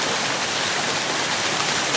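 A small waterfall in Yabakei pours in a steady, dense rush of falling water, loud and close, with no voices over it.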